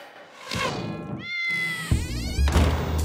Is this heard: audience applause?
no